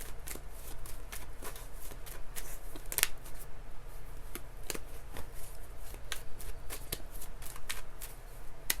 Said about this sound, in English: I've been shuffling for a minute, but I have to shuffle until it feels right.